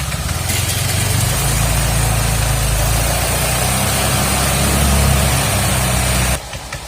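A Honda Vario scooter engine with a bolt-shimmed thermostat for overheating runs loud and close at a steady, held rev, droning without pause before cutting away abruptly near the end.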